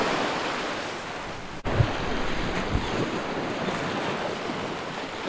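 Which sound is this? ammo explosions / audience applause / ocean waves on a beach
ocean waves on a beach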